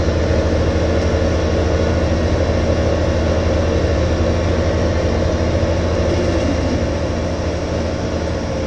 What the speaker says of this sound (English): train right in the middle of our route